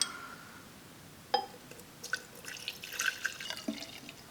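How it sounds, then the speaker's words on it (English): Liquid drips and splashes as a piece of wood is lowered into a container of Minwax wood hardener, with scattered small plops and trickles close by in a quiet room. "I'm going to completely submerge it in the wood hardener."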